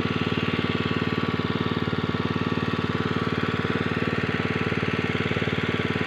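An engine-driven water pump runs beside a large river, pulling up water for rice planting, giving a loud close steady chugging of rapid, even piston beats that carry on without a pause and without voices.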